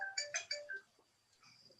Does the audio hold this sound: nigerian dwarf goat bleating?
no